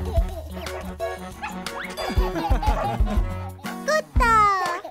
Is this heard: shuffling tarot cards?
no